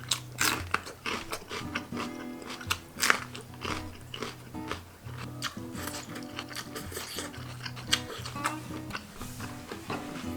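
Close, crisp crunching bites and chewing of grilled chili dumplings repeat in an irregular rhythm, loud and intimate, with no talking.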